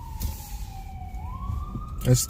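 An ambulance siren wails through city traffic in Philadelphia, a steady tone sliding slowly down and back up over low engine and road rumble, with a louder burst near the end.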